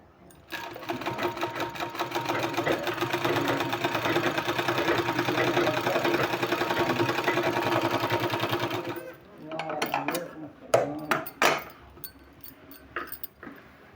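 A sewing machine stitches a sleeve in a fast, even mechanical whir for about nine seconds, then stops, giving way to scattered handling clicks and rustles.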